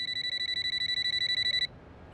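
A rapid electronic ringing tone pulses steadily for about a second and a half, then cuts off, leaving quiet room noise.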